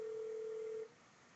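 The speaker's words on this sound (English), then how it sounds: "I was trying his cell phone again" A mobile phone placing a call gives a single steady electronic tone that holds for just under a second and then cuts off, leaving faint background hiss.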